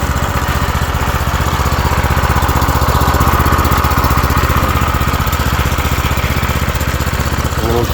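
A 212 Predator engine in an old Formula 1 racing go-kart idles steadily while warming up on choke, a loud, constant chugging drone close by with no voices.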